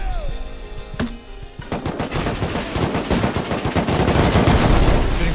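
Gunfire erupts in the video game Rust, starting with a few scattered shots and building into dense, rapid bursts of loud automatic fire that continue without a break.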